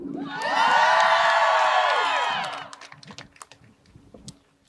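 A crowd cheers and whoops at a legislative rally, a loud burst of shouting and applause that swells for about two seconds and then fades into scattered claps and murmurs.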